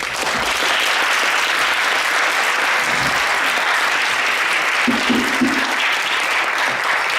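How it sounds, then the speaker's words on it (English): An audience claps to thank a lecturer at the end of a journalism talk. The applause is a dense, steady sustained ovation from a full room, with a few faint voices underneath. "I think he deserves a big applause"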